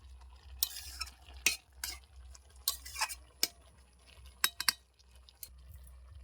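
A lid is set onto a pan of cooking mixed vegetables amid a run of sharp metallic clinks and scrapes, with a faint sizzle underneath between the louder knocks.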